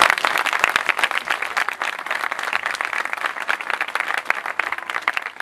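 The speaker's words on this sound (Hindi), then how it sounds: "उसके लिए जोरदार ताली।" Loud, dense applause fills a church gathering during a sermon, many hands clapping in a sustained, even roar of sharp claps that continues without pause, with no talking over it.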